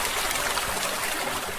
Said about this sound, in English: that's the sound of water flowing along the brook in my